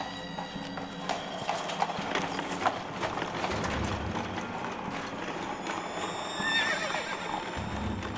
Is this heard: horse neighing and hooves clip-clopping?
yes